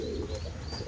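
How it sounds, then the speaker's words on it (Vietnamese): Male domestic pigeon cooing while held in the hand, a brief soft low coo close up against a hum of background noise, with no talk. "Đây là con chim bồ câu trống."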